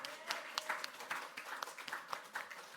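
Congregation applauding during a church service, a faint, thin patter of scattered hand claps that stays low and distant throughout.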